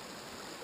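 A river rushes steadily with a broad, even hiss of flowing water. It sounds soft and continuous, with nothing else heard over it.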